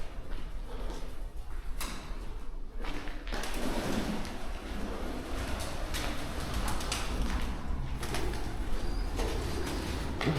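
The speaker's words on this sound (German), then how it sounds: "Unglaublich, wie viele Tauben." A flock of pigeons coos and shuffles in a dense, continuous din, with occasional wing flaps and thuds rising over a steady rumbling background.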